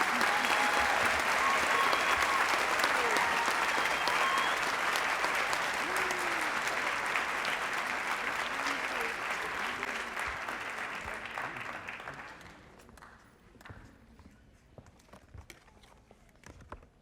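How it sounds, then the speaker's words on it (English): An audience at a high school academic achievers celebration applauds a group of students, loud dense clapping with some cheering that holds steady, then thins and fades to scattered claps near the end. "And let's all give our group a big round of applause"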